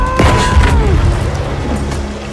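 A heavy, booming blast from a Lunge Mine in the World War II shooter Battlefield V, a loud low explosion with a rumbling tail, set against game audio and music.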